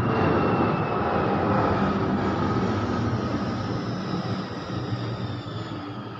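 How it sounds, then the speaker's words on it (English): Steady broadband roar of an airplane passing overhead outdoors, loud and continuous throughout, slowly fading toward the end with no speech. "that plane's annoying the crap out of me, like right now"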